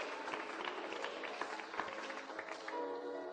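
A congregation claps during a church sermon, a fairly quiet but steady patter of many hands with a few sharper individual claps, sustained without talk.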